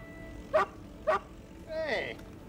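A dog gives two short sharp barks, then a longer whining yelp, close and clear over a faint background.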